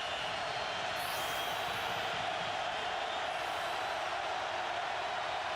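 Stadium crowd at a 2008 Oklahoma versus Washington college football game, a steady, distant roar of many voices filling the air with no clear peaks.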